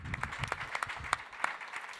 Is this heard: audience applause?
yes